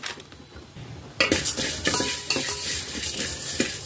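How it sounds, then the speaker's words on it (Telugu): Whole coriander, cumin, black pepper, cloves and cinnamon dry-roasting over low heat in a pan, heard as a close scraping stir with dry rattles and clinks of spices and utensil against metal. "వీటిని దూరగా వేయించుకోవాలి, సిమ్లో పెట్టుకొని."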